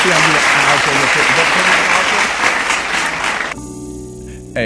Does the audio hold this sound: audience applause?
yes